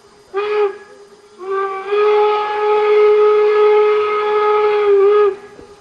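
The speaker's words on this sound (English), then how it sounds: "So you have the whistle blast for communication" A steam locomotive whistle sounds loud and close at Golden Spike National Historic Site: one short blast, a brief pause, then a long sustained tone of several seconds.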